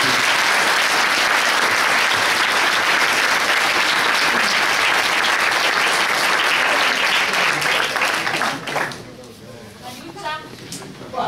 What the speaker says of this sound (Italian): Ringraziamo veramente tutti questi attori, un applauso più sentito ancora.